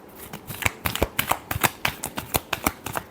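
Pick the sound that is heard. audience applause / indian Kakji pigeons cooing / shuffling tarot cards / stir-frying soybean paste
shuffling tarot cards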